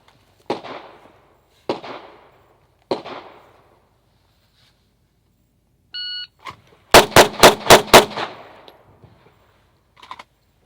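Gunfire from a special forces shooting drill: three sharp, evenly spaced shots ring out, a short electronic beep follows, then a quick string of about five shots at a steady rapid cadence, all close and loud with no talking.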